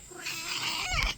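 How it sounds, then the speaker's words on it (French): A cat meows once near the end, a short rising call over a steady outdoor background hum, in a street where cats roam. "Et puis, il y a des chats partout."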